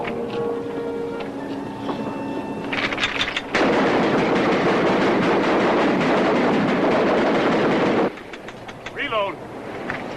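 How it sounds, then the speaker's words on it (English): A volley of guns fires in a sustained loud burst, preceded by voices and followed by more talk. "Commence firing."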